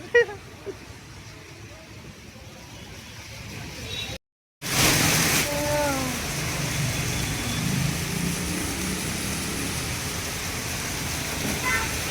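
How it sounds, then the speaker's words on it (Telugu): Steady, loud heavy rain hiss pours down continuously in Hyderabad, with people talking over it and a brief dropout near the start. "వాన ఏమో టూ మచ్ పడుతుంది"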